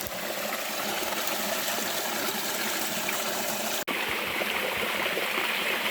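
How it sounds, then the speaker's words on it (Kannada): A small waterfall runs after good rains at Ramadevara Betta in Tumkur, dropping about five to eight feet. It makes a steady, close rush of falling water with one brief cut partway through. "ಆಲ್ಮೋಸ್ಟ್ ಒಂದು 5 to 8 ಫೀಟಿಂದ ಬೀಳ್ತಾ ಇದೆ ಈ ಫಾಲ್ಸು."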